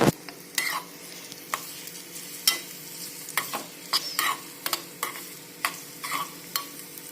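Dried dates frying in a pan for a sweet Dogra milk dish, a soft steady sizzle broken by frequent sharp clinks and scrapes of a stirring spoon.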